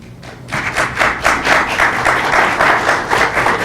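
Audience applause fills a county board meeting room, steady loud clapping that starts abruptly and continues without a break, with a few thuds mixed in.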